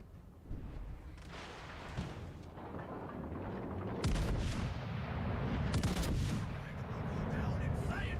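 Heavy warship naval guns boom repeatedly in the World of Warships: Legends naval battle game, loud dense volleys with rumbling low-end blasts building and overlapping.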